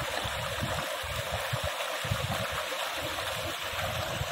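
Water flowing in a river under a bridge, a steady broadband rush with low rumbling surges, continuous and fairly close, with no voices.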